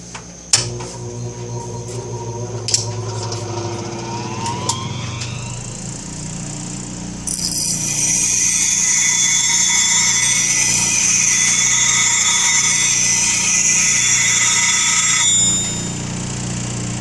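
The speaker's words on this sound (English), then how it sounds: "you'll see me sharpen a blade" A blade being sharpened on a freshly charged plate, with scraping and metallic clinks at first, then a louder sustained grinding hiss from about seven seconds that cuts off near fifteen seconds.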